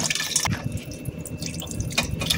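Tap water runs into a cooking pot being refilled with fresh water for boiling pigtails for Jamaican stew peas, a continuous close splashing stream with short bursts of louder flow.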